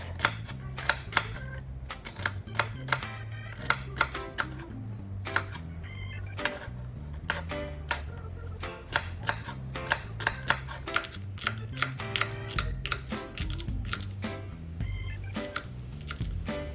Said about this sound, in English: cutting the celery in half. Slicing those halves in smaller bits.